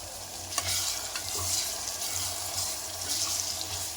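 Goat trotter soup with turmeric is stirred in a pot, giving a close, steady bubbling and watery swish with a few light knocks against the pot, and nobody speaking.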